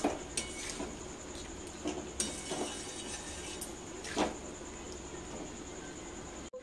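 Fried cauliflower being stirred with spices in a pan on the stove gives soft scraping and clinks of a utensil against metal, with a few sharper knocks, steady and close, without talk.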